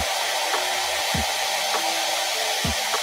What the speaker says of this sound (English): do a little zap of the hairdryer.